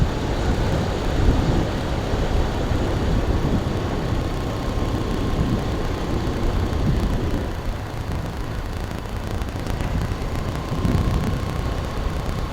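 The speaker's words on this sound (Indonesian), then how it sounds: "Anginnya lumayan gede nih dari tadi" Strong wind on a mountain road near the Menoreh peak in Kulon Progo, a steady broad roar buffeting close and loud for the whole stretch, swelling slightly at moments, with no talking.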